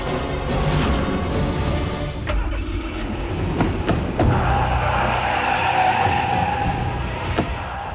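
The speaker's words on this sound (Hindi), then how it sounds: "गाड़ी नहीं चल रही है यार, आगे नहीं जा रही।" A car stalls and won't move forward while its engine revs and tires seem to skid, a loud continuous mechanical roar with scraping bursts and rising whine throughout.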